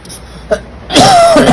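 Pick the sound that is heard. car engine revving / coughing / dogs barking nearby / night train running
coughing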